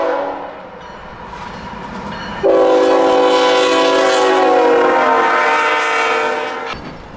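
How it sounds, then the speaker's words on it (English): Freight train QO32, running engines light, blows its horn for the Edgewood crossing close by: a quiet rumble first, then a loud, sustained multi-tone horn blast that holds for several seconds and cuts off abruptly. "QO32 was blowing for the Edgewood crossing, right behind me"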